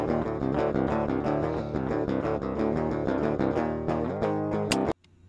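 Raw, unprocessed electric guitar riff from a cover song before any amp simulation, a steady run of sharp, thin picked notes with no other sound, ending abruptly.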